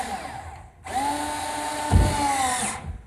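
A power drill drives a long 2 to 3 inch drywall screw into place in a two-family greystone, whirring steadily and close for about two seconds with a heavier bite partway through, then winding down.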